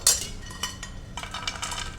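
Roasted fox nuts (phool makhana) rattle and clink against a metal pan as they are stirred for kheer, a sharp burst at the start followed by scattered light taps and a busier patch of clatter near the end, with no talking.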